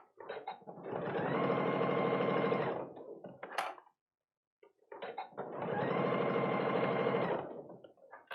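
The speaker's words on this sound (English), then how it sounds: "sew exactly on that line we just sewed, right along here" A sewing machine stitching fabric for a zipper case runs in two steady bursts of rapid, even whirring separated by a short silence, with small handling clicks around each run, close and clear.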